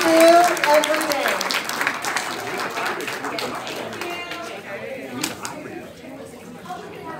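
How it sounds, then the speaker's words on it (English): A church congregation at a Sunday morning service claps and cheers for the professors, loud applause at first that gradually thins and fades, with scattered voices talking over it. "please, a big round of applause for all the professors, all they do every day"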